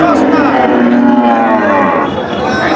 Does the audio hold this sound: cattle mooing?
yes